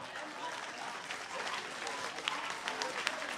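A church congregation applauding and cheering for Jesus during a deliverance service, a dense wash of clapping and crowd noise with a few sharper claps toward the end, moderately distant.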